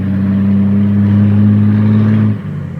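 A ten-wheel Isuzu Rocky 240 truck engine runs close and loud with a steady, deep droning hum, then drops off abruptly near the end.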